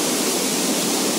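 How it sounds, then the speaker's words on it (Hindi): Water rushing steadily down Jonha Falls near Ranchi, Jharkhand, amid dense green forest: a loud, continuous broadband roar with no breaks, close and filling the whole scene, no voices over it. "और वाटरफॉल से पानी जो निकलता है"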